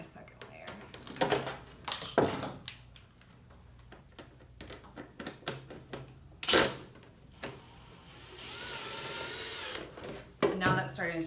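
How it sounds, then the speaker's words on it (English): A power drill whirs in short bursts between quiet handling noises, with one longer steady drilling run near the end. "So I'm just going to start out by drilling into the first layer."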